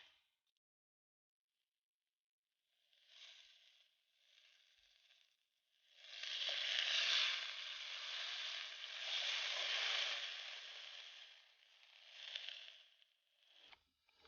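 Vegan scallops frying under a makeshift cover of a small pan, cooked out of a car: soft broadband sizzling comes in short bursts, then swells into a steady, fairly loud crackle for several seconds before easing off.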